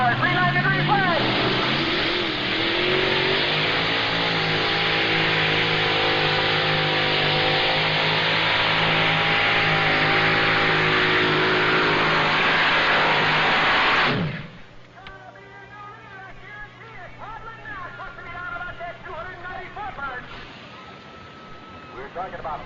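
A 510 cubic inch Hemi engine powers a modified pulling tractor at a pulling event, roaring loud and steady for about fourteen seconds before cutting off sharply, followed by quieter engine noise and an announcer's voice.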